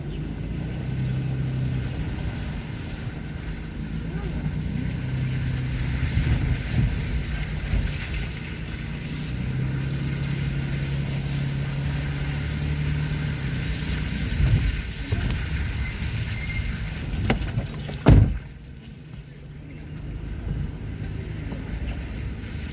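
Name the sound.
car driving on a rain-soaked road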